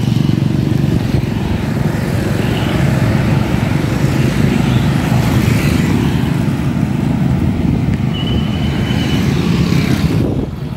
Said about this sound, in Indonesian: ini gua akan masuk ke jalan raya